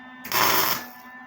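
A single short tack weld on a metal craft piece gives a brief crackling, hissing burst of under a second over a steady electrical hum.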